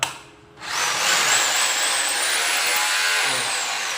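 A loud electric drill whirs steadily after a brief quiet start, its high-pitched motor whine sustained close by for several seconds.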